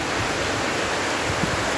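Heavy monsoon rain pouring down steadily, a dense, loud, unbroken hiss of water with no voices over it.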